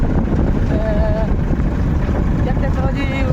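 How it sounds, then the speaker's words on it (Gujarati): A tractor's engine rumbles steadily while riding along, a constant low mechanical drone heard under someone talking. "તો આપણે ભાગી નીકળ્યા ટ્રેક્ટરમાં"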